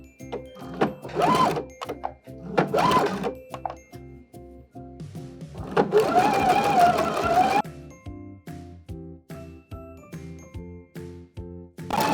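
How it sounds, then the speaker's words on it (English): A sewing machine straight-stitches lace hem tape onto a garment hem, its rapid mechanical rattle running in several separate bursts with a longer run in the middle, close and clear, with no talk. "So we are going to sew down the lace with a straight stitch."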